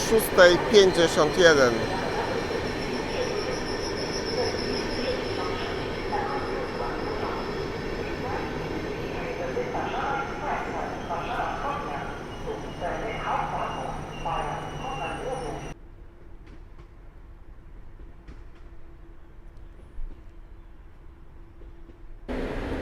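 A train pulls out of Warszawa Zachodnia station with a loud rolling rumble and thin, sustained wheel squeals over it. The sound cuts off abruptly to near quiet, leaving a faint lingering hum.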